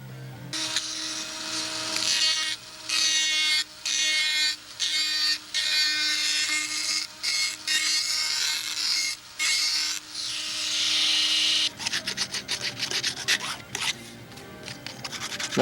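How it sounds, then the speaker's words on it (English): A Dremel rotary tool with a sanding drum grinds and trims a molding pattern, whining in repeated bursts of several seconds separated by short pauses, then giving way to rougher scraping and handling noises near the end. "Now I can take a Dremel tool, because the Dremel tool with a sanding drum will just get me in there with nice clean edges."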